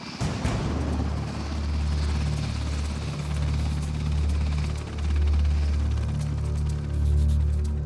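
A Coast Guard rescue helicopter runs close by in Alaska, its loud, steady rotor thrum and turbine whine droning continuously with slow swells in intensity and no talk over it.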